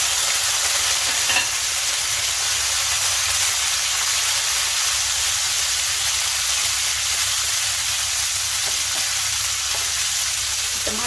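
Chopped tomato frying in a pan with garlic, green chili and curry leaves, a steady close sizzle and hiss with occasional stirring, no talk.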